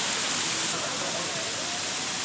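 Lulumahu waterfall on Oahu, Hawaii, roars as a dense, steady wash of falling water, loud and unbroken throughout.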